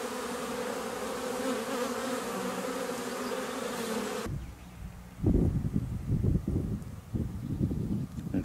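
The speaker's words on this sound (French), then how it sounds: "On peut voir une belle abeille charpentière." Carpenter bee, large and black, buzzing close by at a beehive in spring, a steady dense drone that drops away halfway through, followed by irregular low thumps and rustling.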